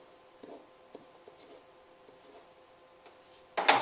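Writing strokes scratch faintly in short, scattered marks across a quiet stretch, ending in a louder burst of scribbling at the close, with no voices.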